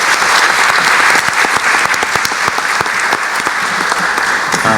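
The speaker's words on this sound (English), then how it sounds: "if we could all give the panelists a round of applause" Loud, close applause from an audience thanking panelists at an academic panel on borderlands, smuggling and drugs, a sustained dense clapping that stays strong to the end.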